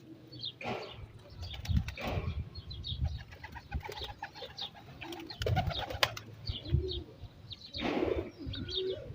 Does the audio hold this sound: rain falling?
no